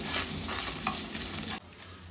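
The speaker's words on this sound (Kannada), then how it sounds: "ಎರಡು ಸೆಕೆಂಡ್ ಚೆನ್ನಾಗಿ ತೆಂಗಿನಕಾಯಿ ಫ್ರೈ ಆಗಿದೆ" Grated coconut frying in a pan, a loud dense sizzle with stirring that runs steadily for about a second and a half before dropping suddenly to a quieter hiss, no voices.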